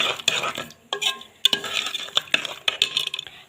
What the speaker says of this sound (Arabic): هننزل برضو بمعلقتين خميرة فورية كبيرة وندوبهم بقى كده مع بعض